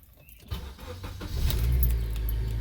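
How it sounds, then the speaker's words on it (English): A 2003 Honda Element engine, with a newly replaced catalytic converter, cranks and catches, the low rumble swelling and settling into a steady running hum close by. "Let's see if my car sounds like a car."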